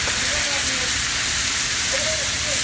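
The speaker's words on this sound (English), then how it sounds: "I'm going to deglaze with white wine." White wine hitting a hot pan to deglaze it, giving a continuous loud hiss and sizzle that holds steady throughout, close up with no talk.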